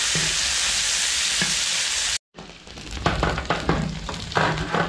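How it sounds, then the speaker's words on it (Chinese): Pork belly sizzles and spits in a hot pan as its fat renders, a steady loud frying hiss broken by a short gap, then resuming with irregular stirring clatters and crackles close by. "把五花肉熬出油来。"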